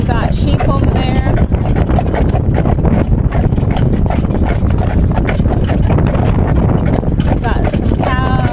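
Hooves of Percheron draft horses clop in a continuous steady rhythm on a road through farm country, near and loud beneath ongoing conversation.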